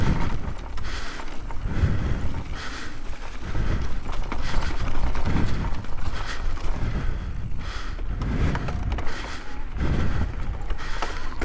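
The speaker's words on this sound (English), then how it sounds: "You might be able to hear a little bit of that rattle when I'm not pedaling on some of these downhill sections" A 2021 Intense Tazer MX Pro e-bike coasting downhill in cold weather, its frame giving a loud, continuous rattling clatter over rough ground, mixed with rumbling trail noise and rushing wind.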